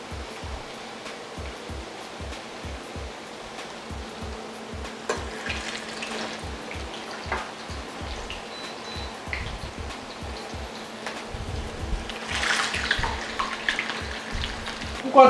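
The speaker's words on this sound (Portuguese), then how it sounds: "Agora a gente vai fritar no óleo." Breaded food frying in hot oil, a steady crackling sizzle with bubbling that swells louder in the later part, accompanied by a regular low thumping pulse underneath.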